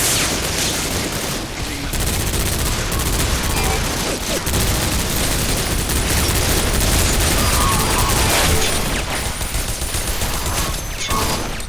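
Dense, loud gunfire and explosions from the shooter video game Bodycount, with rapid overlapping bursts and heavy booms filling the whole stretch without pause.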